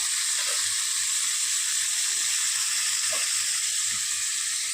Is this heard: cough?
no